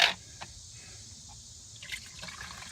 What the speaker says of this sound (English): I'm going to start pouring the water in.